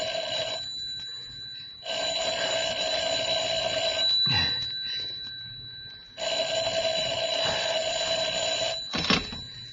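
Telephone ringing in two long bursts of bright electronic trilling, each about four seconds, separated by a pause, with brief knocks or clatter between rings and no talk.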